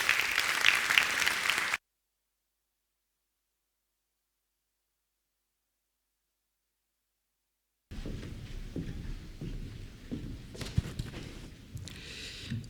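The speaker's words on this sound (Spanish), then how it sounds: "un aplauso también para él" An audience at an agricultural fair event in Zaragoza claps for the Aragón agriculture minister, a short burst of applause that cuts to silence, followed later by quieter room noise.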